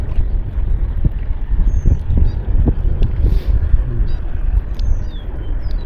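Strong wind on a lake while fishing, a loud low rumbling buffet of gusts battering the microphone, with faint knocks and thumps underneath.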